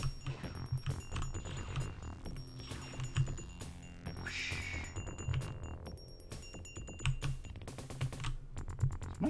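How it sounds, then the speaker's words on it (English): A computer keyboard clatters under fast, irregular typing during a Descent game session, close and fairly quiet, with bursts of keystrokes and game sounds mixed in. "Is my keyboard tweaking out?"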